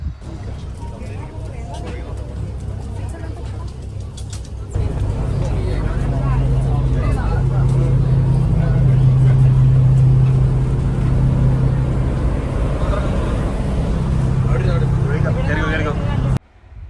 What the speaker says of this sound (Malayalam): അപ്പോൾ ഇതാണ് നമ്മുടെ ബോട്ട്.